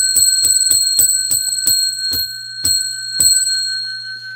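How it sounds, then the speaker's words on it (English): A bell is struck in a steady series of about nine bright, ringing strikes spaced roughly half a second apart, each leaving a sustained metallic tone, slowing slightly toward the end before fading. "I need to ring the bell"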